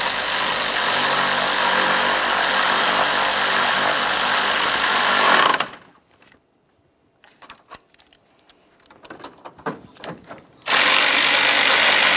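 A power tool whirs loudly and steadily while snugging 10mm mounting bolts on a 2012-2015 Honda Civic 1.8L condenser fan, then stops; faint clicks and rattles of handling follow before the tool whirs again.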